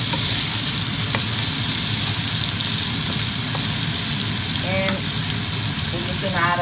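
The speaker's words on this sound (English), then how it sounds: "Saute the vegetables al dente." Vegetables for a pork and rice-stick stir fry sauté in a hot pan, a steady loud sizzle throughout with occasional stirring clinks and scrapes, while a voice talks faintly underneath.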